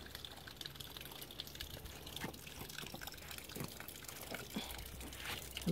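Water trickling in a garden pond outdoors in a backyard, a steady low wash of flowing water with faint drips, continuous and moderately quiet throughout.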